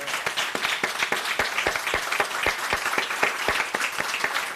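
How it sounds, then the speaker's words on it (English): Audience at a ribbon cutting ceremony for a crisis stabilization center applauding steadily, a dense wash of many hands clapping close by with sharp individual claps standing out throughout, no talk over it. "We want you to applaud each other for all that you do."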